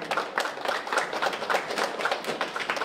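A small group at a pitch event claps in quick, even bursts, a brisk patter of many hands close by with no voices over it.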